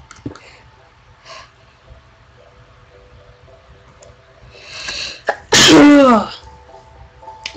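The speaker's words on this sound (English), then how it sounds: "I heard that sneeze, and it kind of sounded like a horse." A single loud, explosive sneeze bursts out near the end, preceded by faint breathing and quiet room sounds, close to the microphone.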